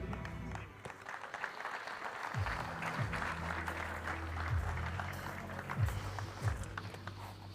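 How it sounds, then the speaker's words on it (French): An audience at an on-stage agricultural equipment presentation for a Väderstad disc harrow applauds steadily as a guest expert is called up, with light footsteps and low rumbling underneath. "Merci de l'applaudir."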